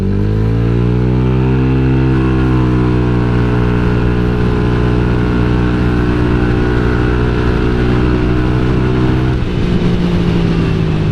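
A Honda Vario 150 eSP scooter engine fitted with a custom 30 mm throttle body is revved loud and close. It holds a rising, droning pitch for about nine seconds, then drops back sharply.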